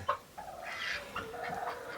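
Young farm chickens cluck and peep in short, soft calls close by, with a few higher chirps running through the brief stretch, alone without talk.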